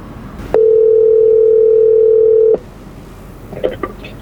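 Steady electronic tone of a phone call ringing out through Apple CarPlay in a 2014-2017 Toyota Camry, one long unbroken beep of about two seconds, loud and alone, followed by a faint voice.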